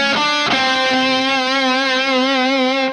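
A heavily distorted electric guitar plays a riff, ringing out with a sustained bending note after a couple of quick picked attacks, loud and up front, with wobbling pitch.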